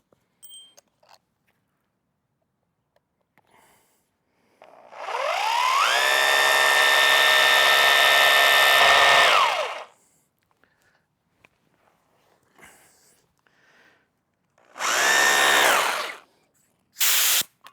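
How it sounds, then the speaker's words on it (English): A power drill whines up and runs steadily for several seconds boring bolt holes with a large bit during a lean-to build, then a second shorter burst later, with quiet handling noises between. "So now I'm going to drill 2 holes right here for my new bolts."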